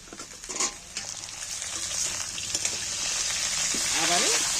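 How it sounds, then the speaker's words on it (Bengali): Chopped onion greens fry in hot oil in a pan, a steady close sizzle with light stirring scrapes that builds slightly louder toward the end, with a faint voice briefly in the background. "তেলের মধ্যে নেড়ে সবগুলোকে ভেজে নিয়েছি"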